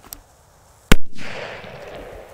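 A standard C-Böller firecracker explodes outdoors with a single loud, sharp bang, followed by a lingering rumbling wash of noise; a faint small pop comes just before.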